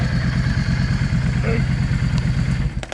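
Yamaha 650 V Star motorcycle engine idling after a carburetor sync, a steady close low throbbing rumble with a faint voice over it.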